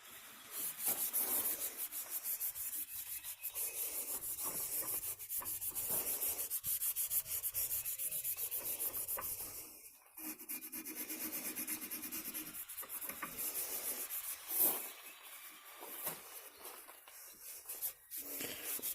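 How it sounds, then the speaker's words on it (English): A strip of sandpaper rubs back and forth over the handle of an Agri Supply 3 1/2 inch bench vise being rebuilt, a continuous close scratchy rasping with steady strokes and short pauses, no talking. "I'm using a little strip of sandpaper, and I'm just going to kind of sand it"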